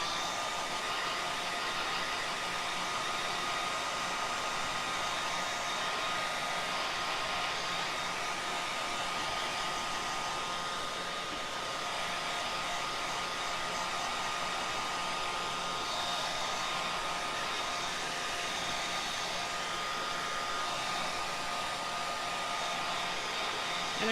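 A hair dryer blows steadily on a tea towel, a constant close whir that runs without a break and with no talking over it.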